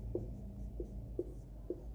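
Pen scratching on paper while writing a scale for a graph, a few faint short strokes in an irregular rhythm over a quiet low hum.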